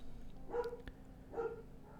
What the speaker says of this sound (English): I apologize for the dog sounds,